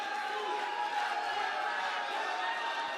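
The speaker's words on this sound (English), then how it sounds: "The crowd already starting some chants here, getting alive" Crowd at an HUFC Super Fights MMA event producing a steady, dense roar of massed voices with chant-like tones, continuous and loud throughout, with no individual words standing out.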